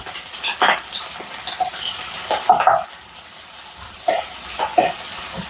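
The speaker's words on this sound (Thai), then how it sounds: "ผัดกุ้งของเราให้สุกเลยนะคะ" Whole shrimp stir-fry in about a tablespoon of rice bran oil in a pan for tom yum fried rice, with a steady close sizzle broken by intermittent scraping clatters of the utensil against the pan.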